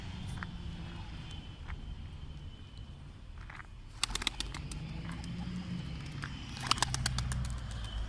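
Tumbler pigeons coo softly over steady outdoor background noise, with brief bursts of wing flapping as birds take off.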